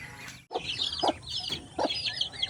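A Texas bulik chicken clucks in short repeated bursts, close and moderately loud, with chirping birds and farmyard ambience around it.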